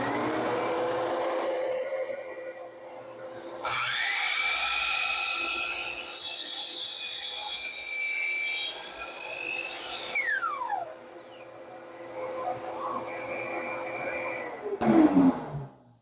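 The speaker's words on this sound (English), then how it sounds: "I'm going to turn the dust collection on, make the first cut with dust collection" A Delta Cruzer saw makes a cut with its dust collection running, a steady motor whine rising as the blade bites in and easing off near the end, with a loud clunk as the cut finishes.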